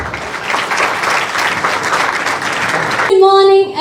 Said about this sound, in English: welcome the respected dignitaries with a huge round of applause.